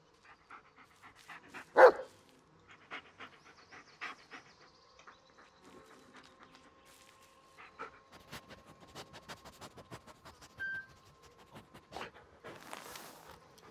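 A dog panting in the video game Blair Witch, soft rapid breaths and faint snuffles with a few sharper clicks and thumps, quiet and close against a near-silent background.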